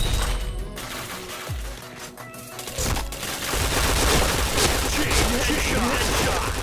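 Dense, rapid bursts of gunfire from the online shooter game Point Blank, played on PC, crackle loudly and almost continuously, with a voice talking underneath.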